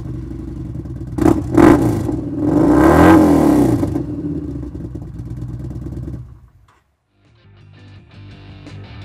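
A 2015 Yamaha XVS950 Bolt C-Spec cruiser motorcycle engine revs sharply a few times, holds a loud rumbling roar, then cuts off briefly before settling into a low idle.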